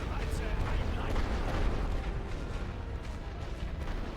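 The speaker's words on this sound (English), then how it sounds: "My last artillery barrage." Continuous artillery barrage in a WWI trench-warfare strategy game set on the Western Front, a dense rumbling wash of booms and blasts rolling steadily without a pause.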